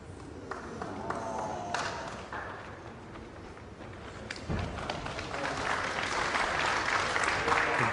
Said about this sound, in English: Very knowledgeable crowd tonight here at York Hall, applauding